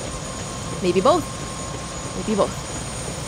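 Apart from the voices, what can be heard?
helicopter flying in the video game Prey (2017)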